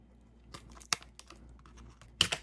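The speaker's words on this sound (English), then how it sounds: "just kind of slice shallowly along the edge here to get the tape loosened up" A knife slices shallowly along taped tabs of a Rainbow High Littles doll package tray, giving soft scratchy ticks and two sharp crackling pops of tape pulling loose, close and quiet.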